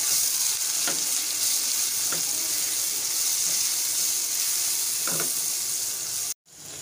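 Canned tuna chunks sizzle in a frying pan as spices are stirred in, a steady close hiss with a few soft scraping strokes and no talking.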